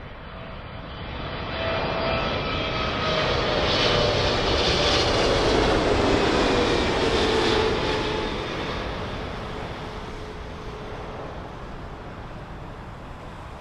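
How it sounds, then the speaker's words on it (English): An Air Canada Boeing 777 arriving from Toronto on approach at London Heathrow runway 27L, its engine roar swelling steadily as it nears, peaking overhead, then fading gradually into a lingering rumble. "just coming in next is the Air Canada 777, all the way from Toronto"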